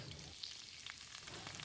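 Fennel seeds and curry leaves sizzle in three tablespoons of hot oil in a pan for a hotel-style chicken salna, a soft, steady crackle with faint pops heard alone at a low level.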